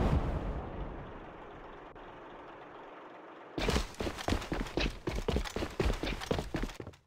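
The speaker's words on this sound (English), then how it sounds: "Бросаю гранату." A grenade goes off in a video game: near-silence, then a sudden loud blast followed by a rapid chain of sharp impacts and bangs that keep pounding to the end.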